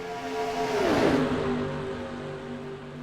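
Stock cars roar past at racing speed in the NR2003 sim, engines rising to a loud peak near the middle as a pack sweeps by, then fading into a steady drone of other cars, with no talking.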